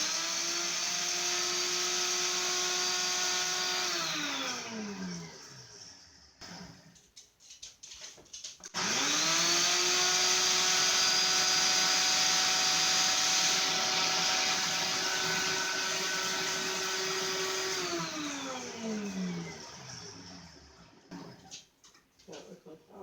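A Ninja blender grinds dehydrated tomatoes into powder, its motor whining loudly in two long runs with a pause between, pitch dropping as each run winds down.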